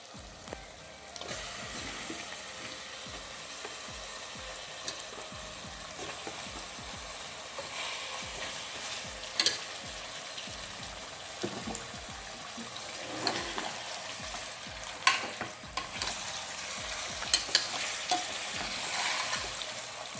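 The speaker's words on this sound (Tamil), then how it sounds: "நல்லா நல்லா கிண்டணும். மசாலா எல்லாத்தையும் ஆட் பண்ணிக்கலாம்." Mutton is stirred and fried with masala spices for biryani, with steady sizzling and a continuous scrape and stir running throughout at close range. No one speaks.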